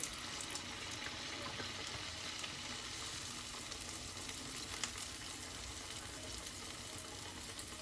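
Oil frying steadily on a medium flame with small wadas dropped in, a dense continuous sizzle with crackling pops throughout, close and even in level, no voices.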